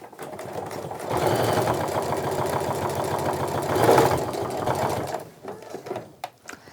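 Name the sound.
sewing machine stitching a quarter-inch seam on a tote bag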